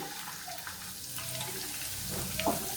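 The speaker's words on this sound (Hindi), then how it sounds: "अब इसमें हम थोड़ा सा पानी शामिल कर देंगे।" Water poured into browning meat for haleem in a pan produces a soft, steady hiss and sizzle, faint and close, swelling slightly toward the end.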